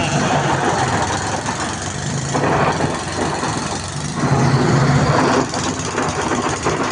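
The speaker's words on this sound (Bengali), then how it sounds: "বাংলাদেশের জাহাজ যাচ্ছে দেখুন বাংলাদেশের পতাকা উঠছে" A Bangladeshi cargo ship passing near Namkhana, India, its engine a low steady mid-pitched drone with wind and water noise, rising and falling slightly in loudness at moderate distance, with no speech.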